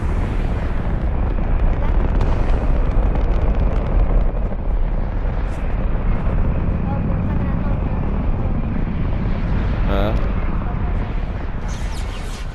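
A Fortnite rocket launches out of a mountain, a loud, continuous rumbling roar that holds steady for the whole stretch.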